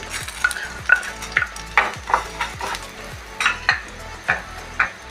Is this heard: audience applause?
no